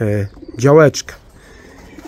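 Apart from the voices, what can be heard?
pigeons moving and flying at the loft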